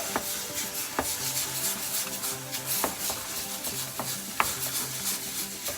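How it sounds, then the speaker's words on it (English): A spoon scrapes and stirs pav bhaji with potato in a pan, soft rhythmic rubbing and occasional light taps against the metal, steady and close. "Now I'm going to just mix it well."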